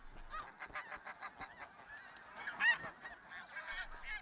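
Snow geese honk at their breeding grounds, a busy overlapping chorus of nasal calls from several birds at moderate distance, with one louder honk standing out near the middle.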